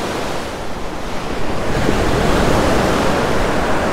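Ocean surf breaking on a shoreline at low tide while fishing for striped bass, a steady broadband wash with waves swelling and crashing louder midway, wind rushing over the microphone throughout.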